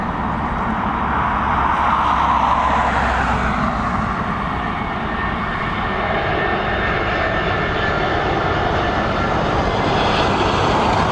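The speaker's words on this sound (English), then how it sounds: "There she is, the A320 down safely." An Airbus A320 airliner lands at Dublin Airport, its engine roar loud and steady throughout with a broad rushing wash and no voices.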